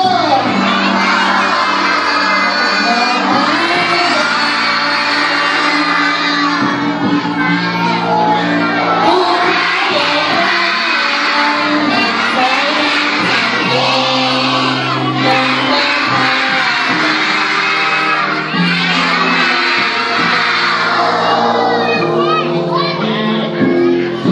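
A big crowd of children at a school camp cheering and shouting loudly and continuously, many voices overlapping in an excited roar throughout.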